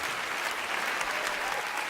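A comedy show audience breaks into dense, steady applause, many hands clapping together at an even level with no voices over it.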